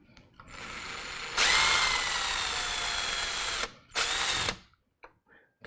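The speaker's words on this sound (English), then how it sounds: "I'm going to grab kind of a small size drill bit here" Power drill with a small bit boring through a metal computer case, a loud steady whine that ramps up, runs for several seconds, cuts out briefly, then resumes before stopping, followed by faint clicks.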